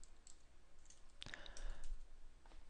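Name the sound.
typing on a computer keyboard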